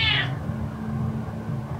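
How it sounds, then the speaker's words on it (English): A cat lets out a loud, drawn-out meow while demanding food, a single close call at the very start that quickly fades into quiet room noise. "The cat lets out a roar to coerce this human into giving"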